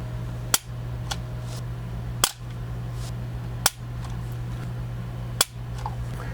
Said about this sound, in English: Let's get a trigger pull weight on this thing.